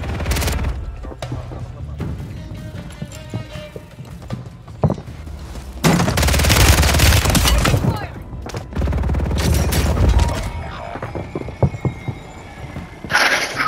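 Bursts of automatic gunfire and booming shots in the video game Warzone, with dense rapid volleys that swell and drop, mixed with game sound effects and occasional player voices.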